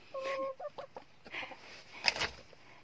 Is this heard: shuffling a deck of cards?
no